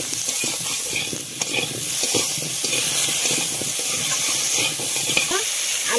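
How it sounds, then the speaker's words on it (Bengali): Potatoes fry in a pan with turmeric and salt, a steady close sizzle and hiss broken by repeated scraping stirs, continuous and fairly loud with no talking. "এই যে আলুগুলো একটু ভেজে নেব।"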